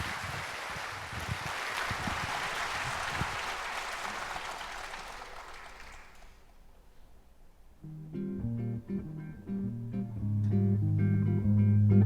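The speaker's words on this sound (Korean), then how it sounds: "여러분 아주 큰 박수 부탁합니다." Applause from a jazz concert audience at the 13th Changwon three-colour jazz concert in autumn, a broad sustained clapping wash that fades after about six seconds before band music with piano and bass begins.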